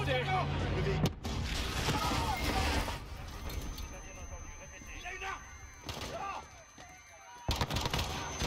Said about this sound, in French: Des coups de feu.